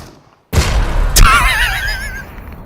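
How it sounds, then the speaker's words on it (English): A tactical nuke exploding in the video game Super People: a sudden loud boom, then a second sharp blast with a long rumbling roar and a wavering high whine trailing off. "Let's wipe them out with a tactical nuke."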